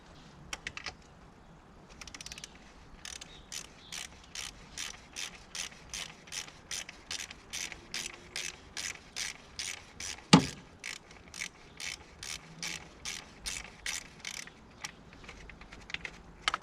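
A ratchet undoes a 15 mm bolt on a Ford Fiesta ST150, its pawl clicking in a steady run of sharp, close ticks across the whole stretch, with one louder knock partway through and no talk.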